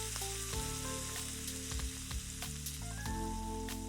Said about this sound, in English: Add the pork tenderloin into the skillet and sear each side until golden brown.